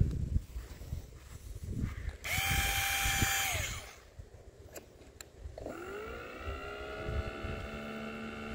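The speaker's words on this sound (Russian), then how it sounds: "Это отвертка." A cordless electric screwdriver runs in two bursts, whirring up to a steady high whine for a couple of seconds each, then winding down, close and alone over faint background noise.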